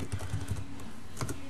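Computer keyboard typing, a quick run of close, light key clicks as a command is entered at a Windows command prompt, with steady background hiss and no voices.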